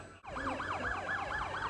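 An ambulance siren wails at a staged crash scene, rising and falling in a steady repeating yelp about three times a second, loud and close with no talking over it.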